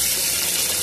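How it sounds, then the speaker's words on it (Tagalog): Water streams steadily into a cooking pot holding pork and taro for sinigang, a continuous close rushing pour with no talk. "lagyan lang natin ng tubig"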